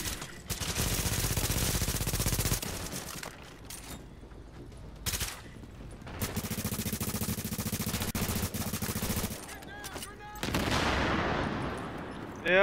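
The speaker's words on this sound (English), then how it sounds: "Yep, that was a grenade." Gunfire and a grenade blast in The Division, with loud bursts of rapid automatic fire broken by short pauses and ending in a heavy explosive burst that trails off, while a voice speaks briefly.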